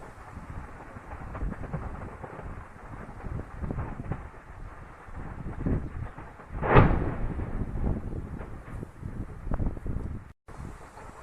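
Secondary explosions at a Russian ammunition depot: faint distant pops and rumbles under wind noise, building to one massive booming blast near the end.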